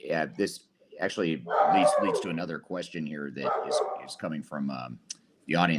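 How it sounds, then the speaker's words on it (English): Dogs bark and yip intermittently in the background of an indoor room, loud enough to be noticed while someone speaks continuously over them. "I apologize for my dogs barking in the background."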